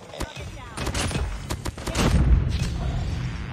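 An impact grenade blowing up in a shooter game amid a burst of sharp gunfire cracks and thuds, ending in a heavier rumbling blast, with a player talking over the noise.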